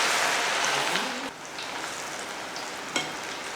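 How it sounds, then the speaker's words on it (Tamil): Cauliflower coated in masala fries in hot oil, a steady close sizzle and crackle running throughout, dipping slightly partway through with a brief pop near the end. "எண்ணெய் நல்லா காஞ்சதுமே காலிஃப்ளவரை போட்டுடலாம்."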